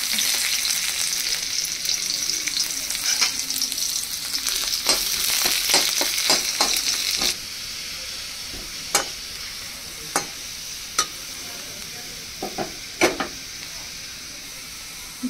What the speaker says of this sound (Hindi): तेल पूरा गरम हो गला ये पियाज पका